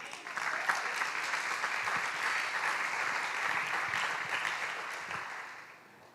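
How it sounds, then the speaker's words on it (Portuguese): Steady applause from a church congregation fills the room, sustained and fairly loud, then fades toward the end with a final sharp clap. "Agora é a hora de você dar uma salva de palmas"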